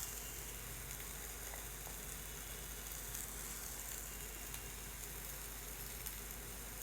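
Winter vegetables sauté lightly in a little oil in a pan before cabbage goes in, a steady, soft sizzle of frying that holds evenly throughout with no talking.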